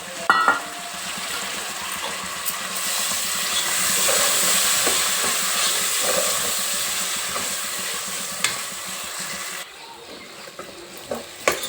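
Tomato pieces fry with curry leaves in a pan, making a steady broadband sizzle that holds for most of the stretch, with occasional stirring clinks and a brief drop near the end.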